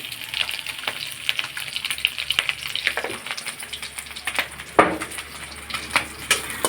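Prawns roast with salt in a pan, giving a steady close sizzle and frying crackle with occasional louder spits and stirring knocks, no talk.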